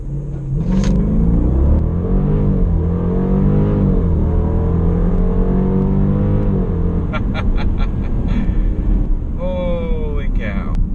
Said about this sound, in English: To launch, press brake and fully apply throttle.